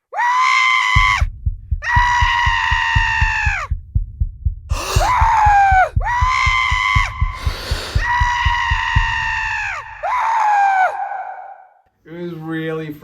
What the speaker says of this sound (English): Insert scream.